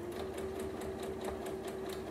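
A sewing machine stitches a Christmas stocking in a quick, even run of needle strokes over a steady motor hum, fairly quiet and close.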